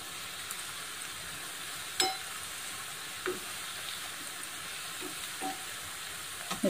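Colocasia leaf fritters fry in a pan with a steady, even sizzle, broken by a few soft clicks and taps as they are turned, with no voices.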